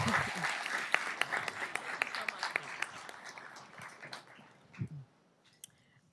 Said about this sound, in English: One more round of applause for those amazing students.